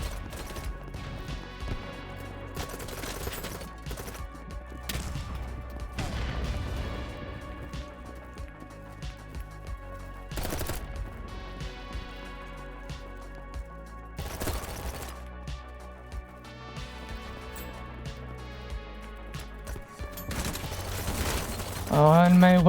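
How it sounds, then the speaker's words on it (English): Groza rifle in Battlebit Remastered firing single shots at night, sharp separate reports spaced irregularly through the clip, loud and close, over a steady bed of game ambience. "Oh, and my weapon was put to single fire."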